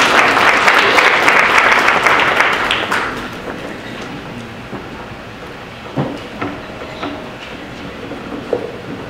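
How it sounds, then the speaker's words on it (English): Audience applause at a church memorial service, a dense wash of hand clapping in the opening three seconds that fades out, leaving a quiet room with a few faint knocks and rustles. "Let's give her a hand clap of praise."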